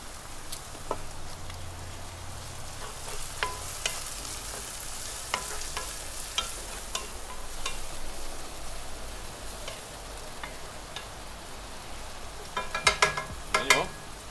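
Shrimp with capers sizzles and crackles quietly in a hot pan, a steady hiss with scattered pops and a burst of louder spitting toward the end.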